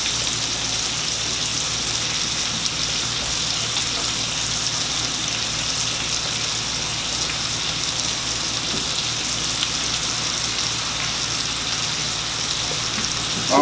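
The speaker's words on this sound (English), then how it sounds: "Let's just saute up a little higher." Rib eye steaks sizzle and fry steadily in a pan, a dense, even crackling hiss that continues without pause throughout.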